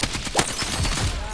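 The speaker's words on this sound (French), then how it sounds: "La mitrailleuse est incroyable." Machine gun fire in the video game Battlefield REDSEC, a short burst of rapid, noisy shots with a broadband rattle, heard close and loud.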